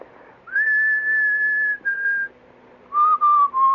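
A man whistles a self-composed tune, clear and close, holding one long sustained note, then a shorter one, and after a pause a few lower notes.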